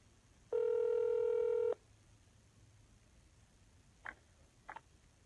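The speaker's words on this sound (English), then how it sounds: "If you know the party you are trying to reach, please dial their phone." A telephone keypad sounds one long, clear tone, then two short beeps after a pause, all against faint line hiss.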